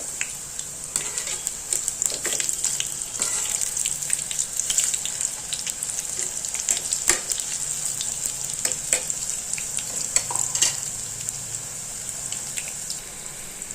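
Cabbage pakoda frying in hot oil, a steady close sizzle with scattered pops and crackles throughout, no voice heard.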